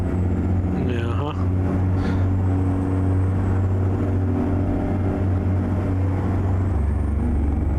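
A C16 truck engine in American Truck Simulator drones with a loud, steady low rumble and brief hiss bursts, continuous throughout with no speech over it.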